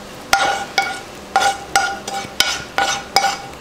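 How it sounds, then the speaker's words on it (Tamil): Halwa stirred in a pan after caramel is added, a ladle striking and scraping the pan in a regular rhythm of about eight sharp metallic clinks, close and alone. "சேர்த்துட்டு கிண்டி விட்டுறலாம்."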